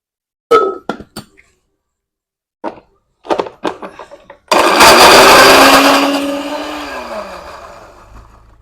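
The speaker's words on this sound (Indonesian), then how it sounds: "Kita blender ya." Several glassy clinks and taps come first, then an electric blender roars loudly as it grinds shallots and garlic into a spice paste. Its motor pitch drops slightly as the mixture thickens.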